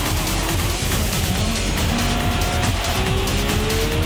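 A Camaro race car on a racing lap, its engine loud and close and snarling steadily, with pitch sweeps as it shifts and other cars' engines droning in the background.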